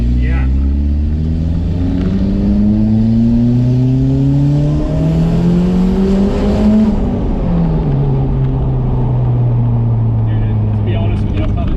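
A Porsche 996 with a swapped Honda K-series engine roars loudly as it accelerates in second gear, pitch climbing steadily before dropping at a shift, heard from inside the car.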